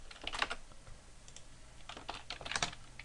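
Keys on a computer keyboard clatter in short irregular bursts while someone types in a Linux terminal, the clicks close and fairly quiet with brief pauses between words.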